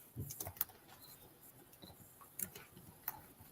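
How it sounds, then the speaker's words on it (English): Quiet, scattered clicks of typing on a computer keyboard, a few irregular keystrokes spread over a few seconds, faint and close with no talking. "See me typing?"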